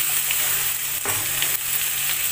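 Tomatoes frying in a pan with sautéed onion for paneer masala, giving a dense continuous hiss of sizzling oil up close, with a couple of faint spoon scrapes and no talking.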